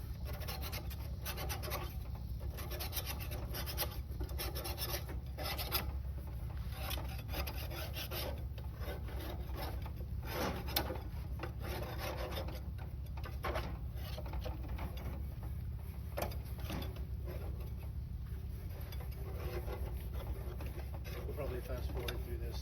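Steady, continuous rasping and scraping of a tool across the rusty metal of a Char Griller grill, close and even throughout with no pauses.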